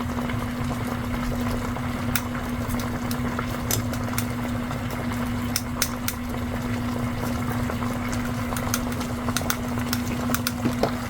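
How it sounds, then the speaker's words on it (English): Purple colouring being stirred into melted gel wax for scented wax melts: small irregular clicks and taps of the stirrer against the container over a steady low hum and faint liquid movement. "and give it a stir."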